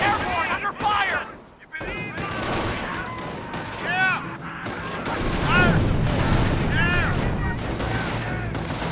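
Battlefield in Company of Heroes: repeated gunfire and artillery blasts, heavy booms and rattling shots layered with shouted soldier voices and whistling tones, dense and loud with a brief lull early on.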